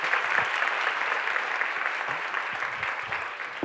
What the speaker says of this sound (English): One more round of applause for the translators